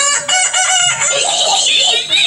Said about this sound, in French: Alors, elles vont pas bien, ces poulets, elles vont pas bien.